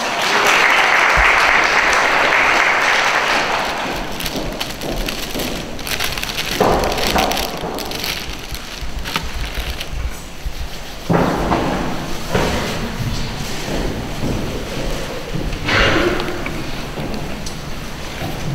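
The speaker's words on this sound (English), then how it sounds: "Let's give these guys a round of applause." A luncheon audience applauds two town mayors, loud clapping that fills the opening seconds and then thins into scattered claps mixed with thumps and room noise.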